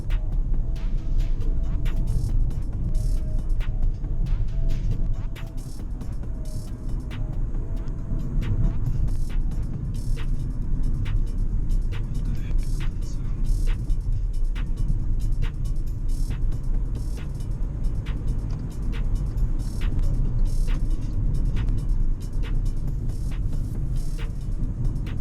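A 2021 Kia Stonic 1.4L EX with automatic transmission drives through city traffic, giving a steady low engine and road rumble from inside the cabin, with soft ticking clicks repeating over the continuous drone and no talking.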